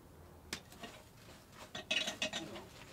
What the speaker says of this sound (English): This little thing, the rattle you hear, that's a clinker breaker.